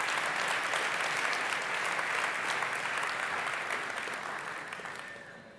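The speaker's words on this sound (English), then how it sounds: "I think we should just give them a round of applause for all the hard work that they're doing as well" Audience applause at the FTX stage of the Crypto Bahamas summit, a dense, sustained wash of many hands clapping that holds steady and then slowly fades toward the end.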